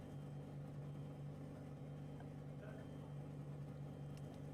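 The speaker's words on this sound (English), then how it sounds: "Like a rusty tractor. There you go, that's what the Audi sounds like." Audi R8 LMS Evo race car engine from the Assetto Corsa Competizione game, idling with a steady, rough, droning hum that runs the whole clip at an even level.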